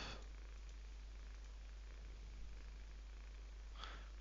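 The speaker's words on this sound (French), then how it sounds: "Je crois qu'on entend mon chat ronronner." A house cat purring close by during an online poker session, a very faint, soft, continuous low rumble heard alone at low level.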